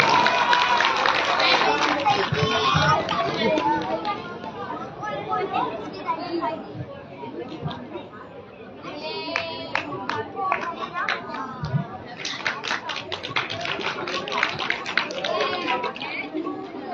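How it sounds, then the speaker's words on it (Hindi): Scattered clapping from an outdoor Ramlila audience during a Kevat Leela performance, mixed with crowd chatter and children's voices, with bursts of applause rising and falling under ongoing talk. "जोरदार तालियां।"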